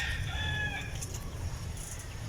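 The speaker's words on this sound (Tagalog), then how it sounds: "meron akong rooster na Rhode Island. Yan yung nag-iisang rooster ko dito." A Rhode Island rooster crows near the start, with clucking from other hens at a backyard free-range coop. The sound is fairly close and runs over a low steady hum of outdoor background noise.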